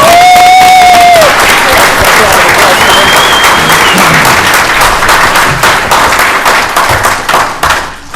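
A large crowd at a town board meeting claps loudly and steadily, a dense wash of applause that thins out toward the end, with a brief tonal whistle early on.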